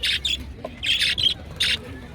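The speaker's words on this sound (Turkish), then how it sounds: "Yavru muhabbet kuşları" Young budgerigars at the Edirnekapı bird market give a series of shrill squawking calls in quick bursts, close and fairly loud, with a low murmur of market background beneath.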